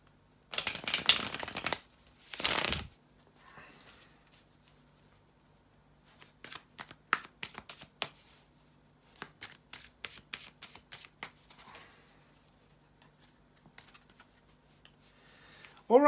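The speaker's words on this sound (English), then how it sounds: "bear with me a second to shuffle the tarot cards" Tarot cards are shuffled close up in two loud riffling bursts, followed by a run of soft, scattered taps and flicks as the deck is handled and squared.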